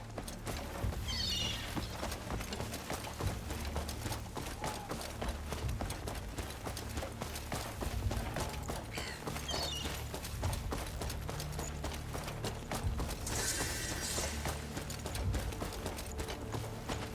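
Rapid, steady hoofbeats of a galloping horse run continuously under a busy Crimson Desert game soundscape near ocean cliffs, with occasional whooshes and a brief whinny-like flourish.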